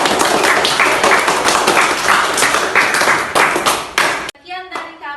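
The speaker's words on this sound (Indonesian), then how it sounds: "Tepuk tangan untuk diri sendiri." Children in an elementary school class clap for themselves, a dense burst of quick, close handclaps that runs several seconds and then stops abruptly, followed by a short spoken voice.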